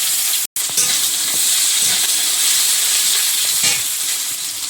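Chopped onion with dried red chilli frying in hot oil in a pan, a loud, steady broadband sizzle that fills the whole stretch, broken by one brief dropout near the start.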